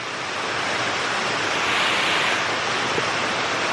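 Waterfall seen on a woodland hike, a steady broad roar of falling water filling the whole clip, close and constant with no voices.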